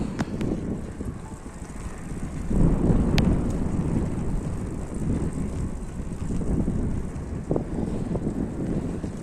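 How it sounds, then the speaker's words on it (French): Steady wind buffets the microphone while cycling a road in northern Iceland, a low rumbling roar that swells and eases throughout with no other clear sounds. "Le vent est plutôt favorable."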